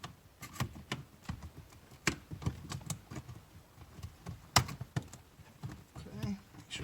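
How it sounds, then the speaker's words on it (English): Plastic prongs of a cabin air filter cover on a 2019-2021 RAM 1500 snap into place, several sharp close clicks and taps among scattered handling noises, with someone talking at times. "Make sure both prongs click in."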